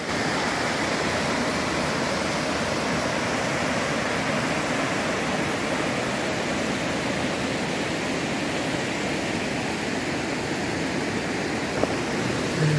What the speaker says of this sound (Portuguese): hoje eu vou mostrar para vocês aqui uma cascata muito linda que eu achei aqui em Igrejinha